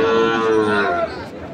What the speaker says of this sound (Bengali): আমরা দেখি এই পাশেও কয়েকটি গরু আছে